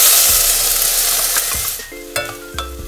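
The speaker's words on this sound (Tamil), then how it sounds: "வெங்காயம் மெலிசா எண்ணெயில் வறுபடட்டும்" Small onions sizzle steadily in hot oil, a loud continuous frying hiss with a few scraping stirs and clicks near the end, close up and with no talking.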